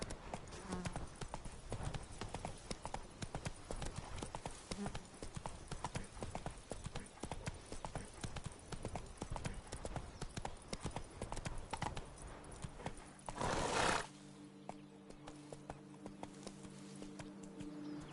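Roach, the horse in The Witcher 3, trots with steady clip-clopping hooves through most of the stretch, the rhythmic beats close and continuous, with a brief louder burst near the end and a faint voice at times.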